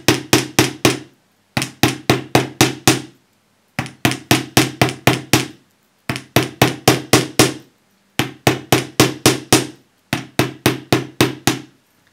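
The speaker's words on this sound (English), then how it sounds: "Hammering is very therapeutic. You can sort of do it and get into a rhythm." Close, sharp hammer strikes flattening wire come in quick bursts of about five blows, each group separated by a brief pause, in a steady repeating rhythm.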